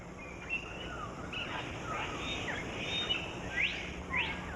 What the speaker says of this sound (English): This is a blue bird of paradise.